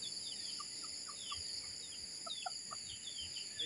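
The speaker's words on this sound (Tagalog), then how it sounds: "Yun ang ating mga sisiw." Chicks cheep in short, high, repeated peeps outdoors on a windy morning, faint and scattered, against a steady background of insect-like buzzing.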